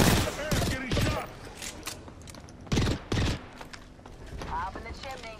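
Gunfire in the Apex Legends video game sounds as several loud sharp bursts of shots spread across the moment, mixed with game effects and character voice lines.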